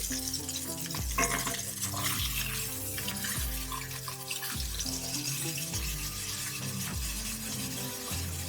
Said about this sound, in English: We're going to sear for 1 minute, then I'm going to lower the heat to medium-low.